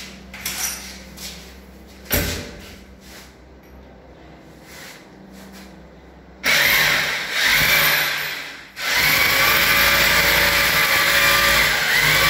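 A power drill bores into a wall during bathroom fitting installation, a loud sustained whir that starts partway through and keeps running almost to the end, with a brief dip in the middle. Earlier there are quieter handling knocks.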